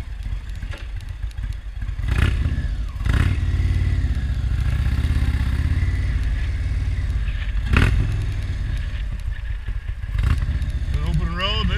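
Indian motorcycle fitted with a 116 cubic inch big bore kit and stage 3 cams, idling with a loping rumble and blipped revs, loud and close, with someone talking over it.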